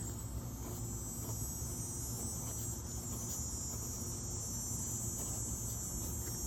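Steady, high-pitched insect buzz of cicadas droning continuously outdoors over a constant background hiss, with no pauses.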